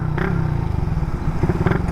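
A Suzuki Raider motorcycle engine running on a borrowed ECU while still faulty, with a close, uneven, throbbing putter and light mechanical clatter.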